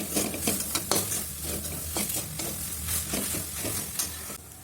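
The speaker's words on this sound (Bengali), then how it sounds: "কিছুক্ষণ পাট শাক ভাজার পরে এইরকম হচ্ছে" Jute leaves fry in oil in a pan with a steady sizzle and repeated scraping stirs of a utensil against the metal, close and continuous, no voices.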